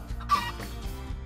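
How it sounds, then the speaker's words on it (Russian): Chickens clucking in Minecraft with the Pixelmon mod, a short burst of several close, moderately loud fowl calls with no talk over them. "Куры."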